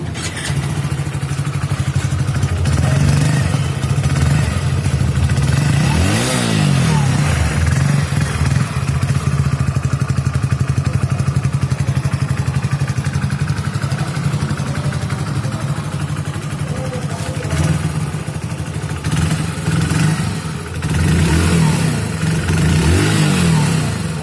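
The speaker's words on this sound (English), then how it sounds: "let me show you the silencer sound too" Hero HF Deluxe BS6 motorcycle idling near the exhaust silencer, a loud steady engine putter with a few throttle blips rising and falling, alone without talk.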